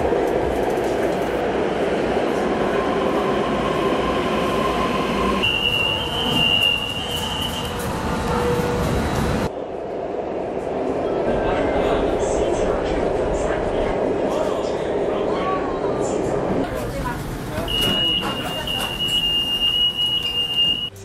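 A metro train runs through Changfengjie subway station, a loud, sustained rumble with rail noise and high wheel squeal, an abrupt shift midway as the train passes, with voices in the crowded station underneath.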